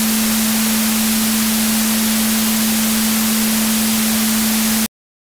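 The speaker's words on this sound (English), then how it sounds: "Yes, there's a lot of noise. That's the dither." A steady pure tone sits under a loud wash of hissing dither noise, both constant until they stop abruptly near the end.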